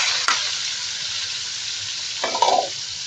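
Garlic frying in cooking oil in a home kitchen: a steady, even sizzle runs throughout, with a couple of brief clinks of a utensil stirring in the pan.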